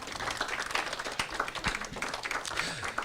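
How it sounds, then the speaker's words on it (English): Applause from a small audience at a university environmental sciences writing workshop, a moderate, uneven patter of clapping heard from some distance with a little room murmur. "Please join me in giving all four of them together one more big round of applause and welcome"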